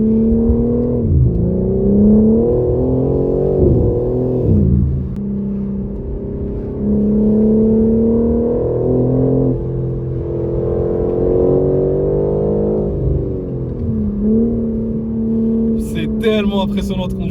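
A BMW M4 Competition with 510 hp accelerating on a country road, its engine note rising and falling through gear changes in a steady, loud drone heard from inside the car.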